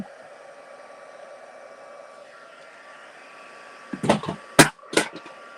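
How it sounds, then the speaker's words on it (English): A heat tool on its heat setting blows a steady, moderate whir while setting a stamped card, running alone for about four seconds before a few sharp knocks and clatters interrupt near the end. "I'm just going to heat set this up."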